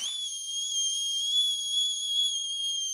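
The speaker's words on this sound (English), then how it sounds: "this is like those kettles that have the whistle" A kettle whistle blown by steam from boiling liquid holds one steady, piercing high tone with overtones, loud and alone for the whole stretch.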